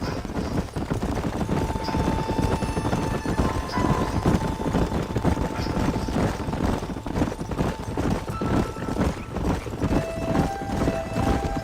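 Horse hooves clip-clop in a steady, continuous rhythm throughout in the video game Red Dead Redemption, with a faint whinny and a low ambient wind-like hum underneath.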